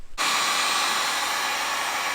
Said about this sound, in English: we're going to take our heat gun, heat up that adhesive, and pop that thing out with a flathead